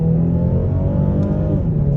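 A 2022 BMW 430i xDrive with a turbocharged engine pulls hard from a standstill, its steady engine drone loud and close throughout, with no talking over it.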